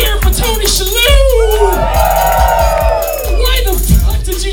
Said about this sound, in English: Why the fuck did you just cheer for Tony Shalhoub?